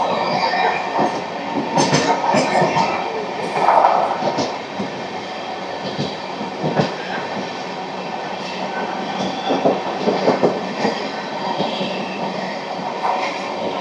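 A 16103 Pamban Express train runs along the rails with a loud, steady rumble and rattle, close by. Sharper clattering bursts and faint squeals rise now and then over the continuous roar.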